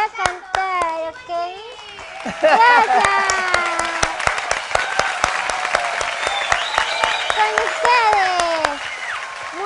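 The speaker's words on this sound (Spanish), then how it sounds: "el aplauso de las niñas para Muchi Muchi" Girls clapping for a performer on a variety stage, sharp distinct claps close by, mixed with children's excited high-pitched voices and chatter, and a brief spoken thanks.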